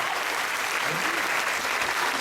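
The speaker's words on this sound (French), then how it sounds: "Donc l'Option Théâtre peut venir à nous voir aussi." Applause for theatre-option students at a French school event, steady dense clapping from a crowd filling the room throughout, with a faint voice under it.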